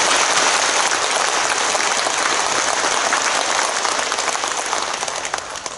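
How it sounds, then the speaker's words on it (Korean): Large audience at a school entrance ceremony applauding to welcome visiting reporters, with steady loud continuous clapping throughout that tapers slightly at the end. "우리 큰 박수로 환영해 주시기 바랍니다"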